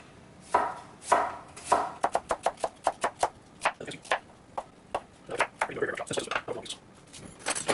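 A knife slices through an onion on a cutting board while beef is prepared for smoking; the cuts come as a steady series of crisp, close taps, some quick and clustered, with no voices.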